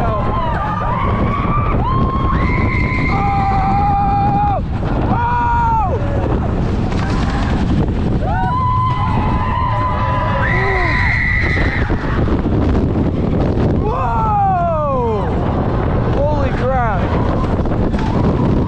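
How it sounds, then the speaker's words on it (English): A ride on the Goliath roller coaster at Six Flags Great America in Gurnee, Illinois, plunging down its big drop, with loud, steady wind roar and riders screaming and yelling throughout. "Oh man, this drop is huge."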